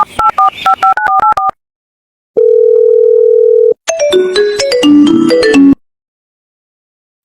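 Keypad tones beep in a quick series, then a steady dial tone holds for over a second, followed by another rapid burst of dialing beeps.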